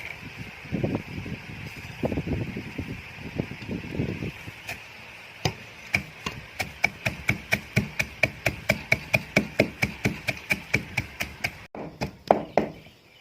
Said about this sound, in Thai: นี้เราจะทำการโขลกพริกนะครับ